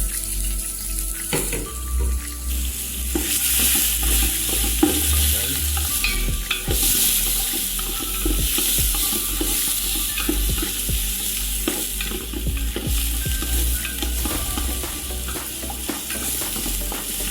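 Garlic sautéing in a pan with a continuous hot sizzle and repeated scraping stirs of a utensil, close and steady, with a few clinks and running-water sounds in between.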